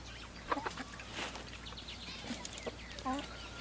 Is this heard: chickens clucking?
yes